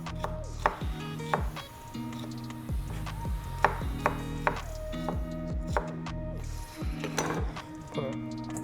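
A knife chops vegetables on a cutting board in repeated, irregular strikes, with a steady hum and background music underneath.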